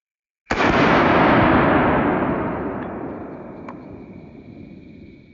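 A single sharp gunshot from a Smith & Wesson M&P Shield pistol, loud and close, its blast ringing out and decaying slowly over several seconds in an otherwise quiet space.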